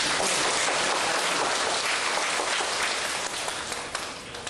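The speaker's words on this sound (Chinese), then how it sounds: "请大家在热烈的掌声" Audience applause fills a hall at a choir performance during a religious teaching gathering: dense, steady clapping from many hands, loud and continuous throughout with no voices.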